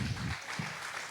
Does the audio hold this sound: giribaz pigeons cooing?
no